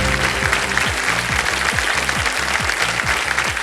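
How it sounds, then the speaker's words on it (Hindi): Studio audience at the quiz show Kaun Banega Crorepati applauds a correct answer, a broad, steady burst of clapping from many hands, loud and continuous with no talk over it. "अब ताली बजा सकते हैं आप"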